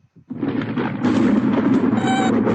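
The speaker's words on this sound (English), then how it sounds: "I've heard that sound before. It's thunder." Thunder: a couple of faint taps, then a deep, loud rumble that swells and holds, rolling on without a break and with no voices.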